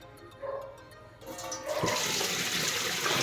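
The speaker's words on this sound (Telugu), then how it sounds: "నీళ్ళు మొత్తం ఇలాగా వంచేస్తున్నాను సింకులో." Soaking water drained from a pot of soaked rice into a kitchen sink; a loud, rushing gush of water begins partway through and continues steadily, close by.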